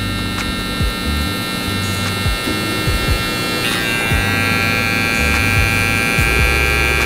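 Electric hair clippers hum loudly and steadily up close while blending a long beard, the buzzing motor changing pitch slightly as the blade moves through the hair.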